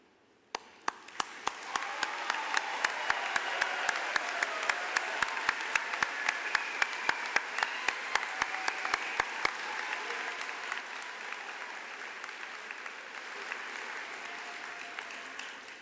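Sustained applause from a large commencement audience honoring summa cum laude graduates, dense steady clapping with a few sharp nearby claps standing out, fading slightly toward the end.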